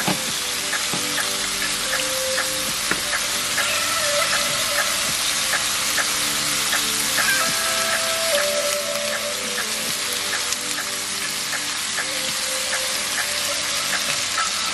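Pesto sauce simmering in a pan, a constant dense sizzle and bubbling with intermittent scrapes and clinks of a utensil stirring, close and steady throughout.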